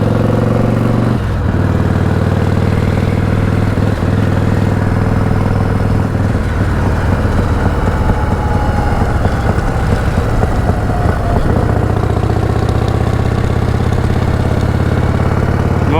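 A Harley-Davidson Evo motorcycle with a sidecar idles close by, a loud, loping, steady engine beat with small shifts in pace across the whole stretch.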